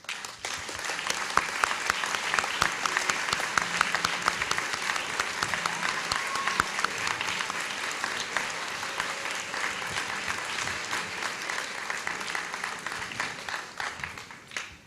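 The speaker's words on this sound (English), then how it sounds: "so that we can give you a special round of applause" Steady applause from a sizable audience at a 2007 graduation ceremony, many hands clapping at once for a long stretch, fading slightly toward the end.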